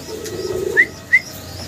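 A Barhuma pigeon gives a soft low coo, followed by two brief higher chirping notes, close and fairly faint over a quiet background.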